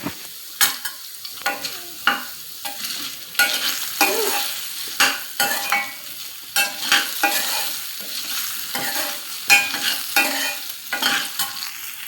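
Potatoes frying in a pan, with fried peanuts set aside, a continuous sizzle broken by repeated rhythmic scraping strokes of a spatula stirring, close up and without speech.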